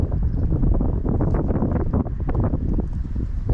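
Strong wind buffets the microphone at a campsite in Murcia, making a continuous loud roar with gusty rumbling and rustle throughout and no clear talk.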